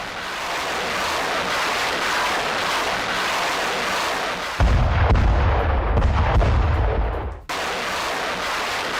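Russian MLRS rocket artillery shells positions in a war zone, a dense continuous roar of launches and blasts that swells into a heavier, booming rumble midway before easing back, loud throughout with no talk.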